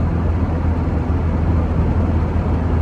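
A 1939 Citroen Traction Avant Light 12 trundles along the road, its engine giving a steady low rumble with road and cabin noise, constant and fairly close, with no talk.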